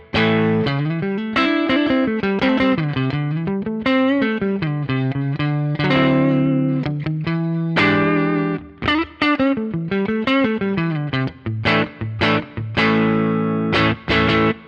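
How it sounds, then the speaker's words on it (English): Clean electric guitar on the neck pickup, through an amp with a compressor, plays a melodic line with chords and single notes, warm and full, with a large wooden-room reverb tail, steady and close. "It's a nice fat clean sound, especially on that neck pickup."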